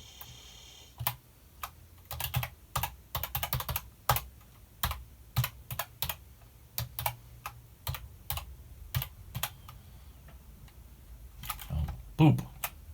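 Keys clack on a Commodore 16 computer keyboard in irregular bursts of quick presses with short pauses, close and fairly quiet, with a room hum underneath.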